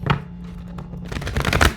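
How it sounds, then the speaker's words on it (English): A large, oversized tarot deck being shuffled by hand, with crisp riffling bursts of card edges near and fairly loud, a pause of soft rustle between them. "don't like shuffling this deck either, because these cards are huge"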